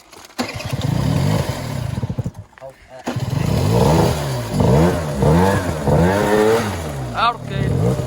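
A scooter engine cranks, catches and revs in several rising and falling bursts close by, with people talking over and between the revs.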